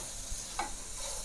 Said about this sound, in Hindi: अब सारे मसाले को हम 1 से 2 मिनट फ्राई कर लेंगे।